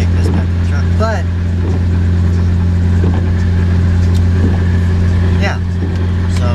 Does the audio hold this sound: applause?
no